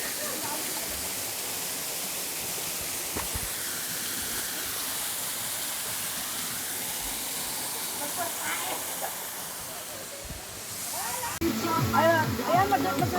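Balagbag Falls pours in a broad, steady hiss of falling water, with people's voices and movement rising near the end.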